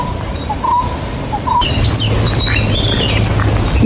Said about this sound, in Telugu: అడవులలో పక్షులు కూడా అరుతున్నాయి ఫ్రెండ్స్